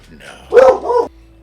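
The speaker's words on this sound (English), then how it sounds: "Dog went mental there." A dog barks in one short, loud burst of a couple of close yaps that stop abruptly, with faint background sound before and after.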